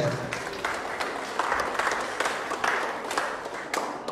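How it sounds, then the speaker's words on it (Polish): Audience applause and cheering for the newly crowned Miss Gimnazjum 2014 at a school beauty pageant, lively clapping in bursts with a voice speaking over it. "Wielkie brawa!"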